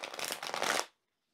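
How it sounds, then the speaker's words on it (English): A tarot card deck is riffle-shuffled up close, a quick crisp flutter of cards lasting under a second before silence. "we're going to go ahead and shuffle it up"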